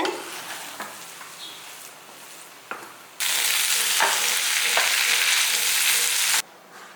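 Potatoes frying in a pan for a fenugreek coconut milk rice meal, with a steady broadband sizzle that jumps much louder midway as they are stirred, accented by a few scraping strokes before it drops back to a low hiss.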